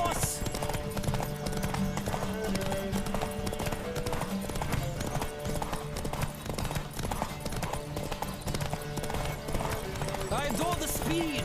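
Horses gallop hard in The Witcher 3, a steady loud drumming of hooves with occasional neighs, while a voice speaks briefly over the riding.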